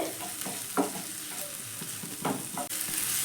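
Chopped tomatoes sizzle steadily in a hot pan as they are sautéed for an egg and eggplant dish, with intermittent scraping strokes of a spatula stirring them, close and fairly quiet, no voices.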